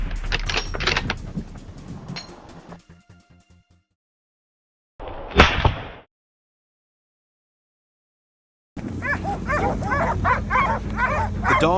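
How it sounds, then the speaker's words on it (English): Hunting dogs bark in bursts while chasing wild boar out of a cornfield, sharp close yaps at the start, a lone loud bark midway after silence, then a sustained run of rapid barking. "The dogs chased the wild boar out of the cornfield."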